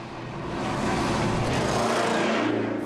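A 1928 Alvis FWD front-wheel-drive car engine runs steadily and loud, with a rough, rapid pulsing churn that swells early and holds without talk.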